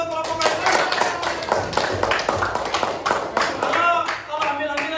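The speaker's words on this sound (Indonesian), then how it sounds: "tepuk tangan dulu untuk kelompok lain" A class applauds another group with a burst of many hands clapping at an uneven rhythm. Voices and chatter from the room mix with the claps.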